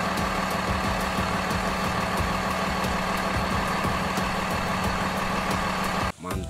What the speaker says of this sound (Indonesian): Mobil truk towing.